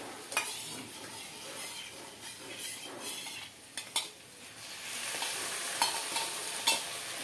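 Curry ingredients frying in a pan for Hyderabadi saag puri, a steady soft sizzle broken by a few sharp clinks and scrapes of a spoon stirring against the metal, close and moderately loud with no talking.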